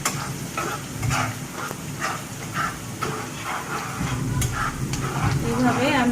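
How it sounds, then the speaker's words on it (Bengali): Whole spices, bay leaves, fenugreek, cinnamon, cardamom and cloves, frying in oil in a pan, a continuous hiss and sizzle with rhythmic stirring scrapes throughout. "এইভাবে আমি মশলাটা একটু ভেজে নেব।"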